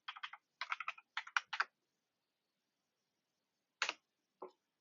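A sudo password is typed on a computer keyboard, sounding as quick, quiet clusters of crisp key clicks with short pauses between bursts, then two isolated final taps in an otherwise silent room.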